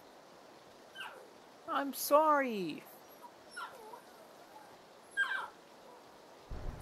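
A puppy whimpers and whines in several short, high, plaintive bursts, near and moderately loud, with a person speaking softly in between.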